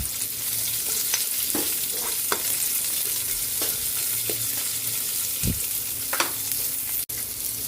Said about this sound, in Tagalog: Lagyan na natin yung ating bawang para sa ginisang gulay. Lagay na rin natin yung sibuyas.